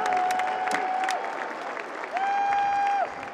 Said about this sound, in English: how about a big round of applause for our boxers here at South of the Ring tonight?